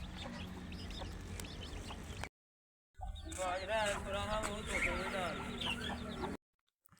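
Chickens cluck and chatter in a farmyard, with a hen and her growing chicks among them; the calls come in two busy bursts separated by short silences, fairly close and steady.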